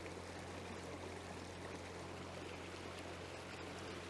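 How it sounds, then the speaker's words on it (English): Water churns steadily behind a Crescent Cres-Craft kayak as a Torqeedo electric motor runs at full throttle, a continuous rushing wash with a low hum beneath and no distinct engine noise. "It's all just turbulence from the rear of the kayak"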